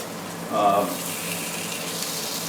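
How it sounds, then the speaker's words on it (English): Burger patties frying in oil in a pan, a steady close hiss with a brief louder spit as they are turned. "So we're going to turn our burgers, get some nice golden brown on it"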